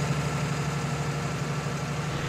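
A New Holland 7630 tractor in Farming Simulator 19 idles after being restarted, a steady low engine drone that holds even and continuous at close range.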